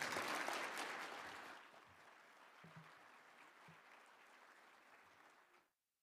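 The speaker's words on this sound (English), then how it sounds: "Please join me in providing them with a round of applause." A conference audience at the Net Inclusion event claps, loud and dense at first, then thinning to scattered claps before stopping abruptly.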